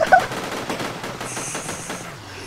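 Rapid bursts of gunfire ring out in the video game Sub Rosa, a loud shot at the start followed by a quick run of rattling automatic fire that fades out over a couple of seconds.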